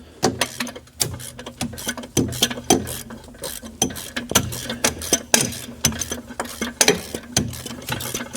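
A hand ratchet works loose an 18 mm torque converter bolt during engine removal on a Chevrolet Cruze, giving a close, loud run of repeated clicking bursts in a steady back-and-forth rhythm.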